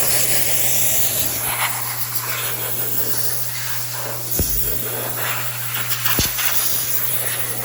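Plastic coating sprayed from a can onto a car's plastic piece: a loud, close, continuous aerosol hiss lasting the whole time, with a steady background hum and a couple of brief knocks.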